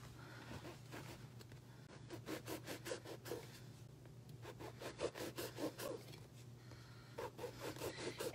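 A knife saws through a loaf of bread for pull-apart bread in quiet, rhythmic back-and-forth strokes, in several short bursts of scraping with brief pauses between slices, over a low steady hum.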